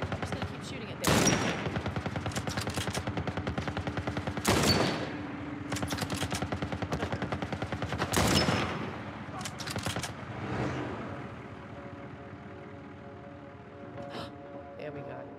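Video-game gunfire in The Last of Us Part I, set in the Pittsburgh sewers: three loud, sharp bursts of shots spaced a few seconds apart, with softer reports and echoing ambience in between and a faint voice underneath.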